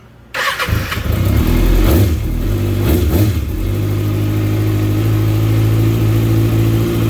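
A 2013 Kawasaki Ninja ZX-6R 636 with an Akrapovic exhaust starts abruptly, then revs loudly a few times before settling into a steady, throaty idle close by.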